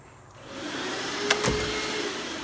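A vacuum cleaner runs steadily during house cleaning near a kitchen, a continuous even whir from start to finish with a short brief thump partway through.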